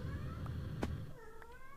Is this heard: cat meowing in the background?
yes